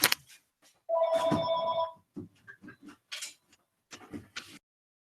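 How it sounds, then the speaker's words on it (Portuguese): A home landline telephone rings in one clear electronic burst of about a second, surrounded by scattered faint clicks and brief noises in a quiet room. "eu desliguei todo o meu computador e esqueci de desligar o telefone da casa"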